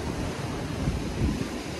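Strong ocean waves roll and wash in a continuous, loud, broadband roar, with wind buffeting the microphone and no distinct breaks.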